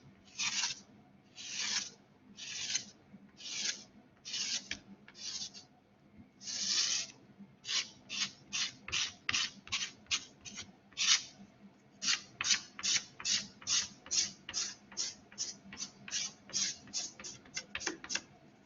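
Rhythmic rubbing strokes wipe excess ink from a drypoint printing plate, slow at first and then quicker, dozens of close, crisp swishes in a row.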